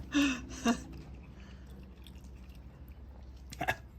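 Close, moist chewing and biting of jerk chicken with barbecue sauce, with two sharp bursts near the start and another near the end, and quieter mouth sounds in between.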